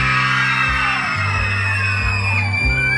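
A group of children yelling together in a loud, sustained chorus of shouts that rises and falls over a few seconds.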